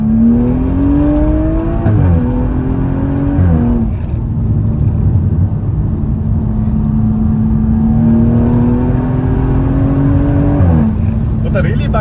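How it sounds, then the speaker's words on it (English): BMW M135i six-cylinder hot hatch heard from inside the cabin, with a droning engine note that climbs through the revs, drops on each gear change and then pulls steadily again. The engine note stays loud and constant for the whole stretch. "The 6-cylinder engine pulls hard all the way to red line, and the sound that's coupled to the engine sounds absolutely amazing."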